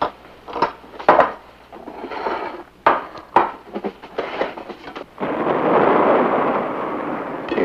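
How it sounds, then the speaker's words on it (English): Thunder rumbles in a domestic comedy scene, first as a string of sharp cracks and booms, then as a long, loud, continuous roll, with no talk over it. "You hear that? It was thunder."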